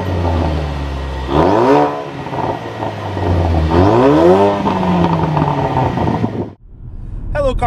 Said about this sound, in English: driving the 2017 Ford Focus RS